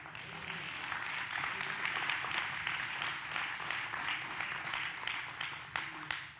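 Congregation at a church sermon breaks into steady clapping, a broad wash of hand claps at moderate distance that holds evenly for several seconds with a faint murmur of voices beneath.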